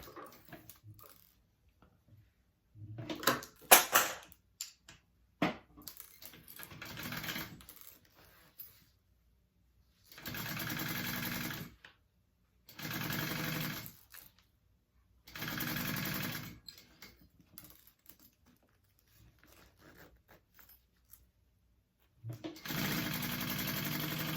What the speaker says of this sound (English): I'm going to sew that right sides together to the front part of this zipper